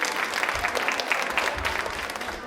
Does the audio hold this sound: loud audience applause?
yes